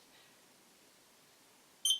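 A single electronic oven timer beep rings out near the end, short and clear over a quiet room, from an oven set to 200 degrees while baking stuffed tomatoes.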